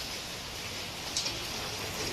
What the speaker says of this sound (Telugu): పడే కుక్కు వర్షం అయితే చంపుతుంది